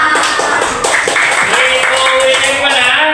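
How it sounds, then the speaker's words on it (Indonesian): Classroom students clap together after a classmate's presentation, a steady patter of hands filling the room with voices mixed in underneath. "Ya, kita kasih tepuk."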